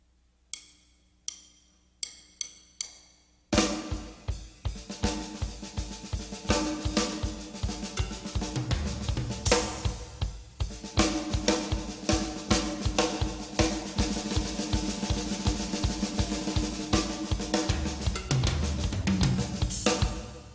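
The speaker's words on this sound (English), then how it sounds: "playing a 5-note figure over 4" A few sparse clicks, then a busy five-note drum figure played over four, with recurring snare, cowbell and tom hits cycling in a repeating pattern, loud and continuous.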